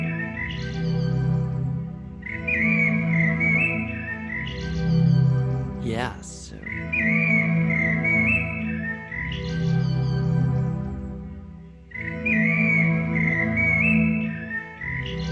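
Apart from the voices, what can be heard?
slowed blackbird song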